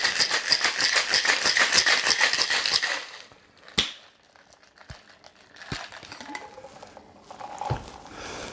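A cocktail shaker holding ice and mint rattles hard for about three seconds. A few sparse, sharp clinks and shuffling handling noises follow, close up and with no speech.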